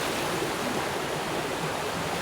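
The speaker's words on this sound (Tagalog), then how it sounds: "Ito po yung itsura ng ilog." A mountain river rushes steadily over rocks, a dense, continuous broadband wash of flowing water close by, with no talk.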